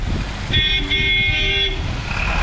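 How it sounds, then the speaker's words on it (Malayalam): Vehicles pass on a rainy forest road, with a loud, close horn blast of about a second over steady road noise and rumble. "ഇത് കഴിഞ്ഞ് എന്തോരം വണ്ടിയാണ് വരുന്നത്."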